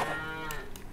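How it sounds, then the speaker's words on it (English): A single cow moos in Farmer's Dynasty, a farming video game, one loud, close, sustained low bellow with no talking. "I can hear my cows."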